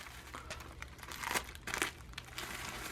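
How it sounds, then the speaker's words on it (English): Tape is pulled off to seal a plastic bread bag, making several crinkly, tearing bursts that grow louder in the middle of the stretch. "I'm just gonna pull off some tape to seal the bread bag."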